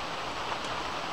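Steady rain falls outdoors on the Appalachian Trail, a brief, even hiss of close, moderately loud downpour.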